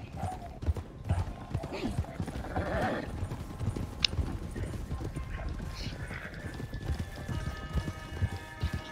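Hooves of a horse in Red Dead Redemption 2 Online pound in a quick clip-clop rhythm, joined by a whinny and snorts, while players chat over the game sound.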